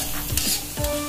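Potatoes for kentang mustofa frying in hot oil, a steady close sizzle with bursts of stirring and scraping at the pan, no talk.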